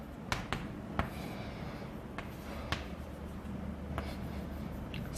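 Chalk or marker strokes on a classroom board make a series of sharp taps and short scratches at irregular intervals over a steady background hiss.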